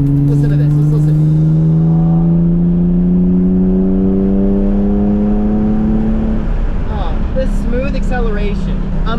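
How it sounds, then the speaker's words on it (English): A Nissan 350Z engine revs loudly and climbs steadily in pitch with a raw note from a stock exhaust with muffler delete, then crackles and burbles as the throttle drops. "completely stock exhaust system with a muffler delete, and it does the job"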